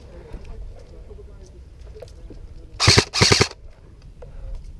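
Airsoft guns fire two quick bursts of BBs during an outdoor game, rapid rattling pops close by, set against quiet background noise.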